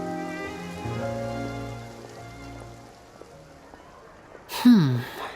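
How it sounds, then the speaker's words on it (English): Rain patters steadily over a surface in the video game Genshin Impact, a soft continuous hiss under held musical tones, with a character's voice breaking in loudly near the end. "It rained for longer than I suspected."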